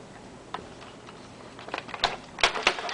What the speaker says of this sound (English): we're going to lift off the cover. We're going to open up the tape